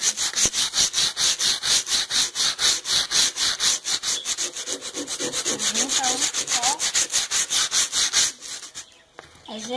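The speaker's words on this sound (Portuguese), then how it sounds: "A gente teve a ideia de pegar uma lixa de lixar pé" Rapid, steady back-and-forth rasping strokes of a foot file sanding material for a homemade corner guard, close and loud, keeping an even rhythm for several seconds before stopping near the end.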